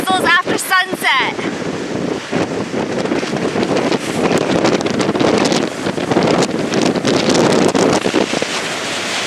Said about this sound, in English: And it's freaking windy.